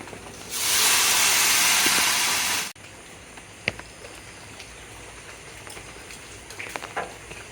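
Water poured into rice frying in oil with chopped onions gives a loud, steady sizzling hiss that lasts about two seconds and then cuts off sharply. Faint clicks and scrapes of cooking follow at a low level.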